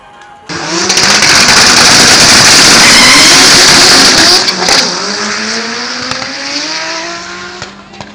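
Race cars launch off the start line together at full throttle, a loud, sustained engine roar rising through the gears with a brief tire squeal, then fading slightly as they pull away into the distance.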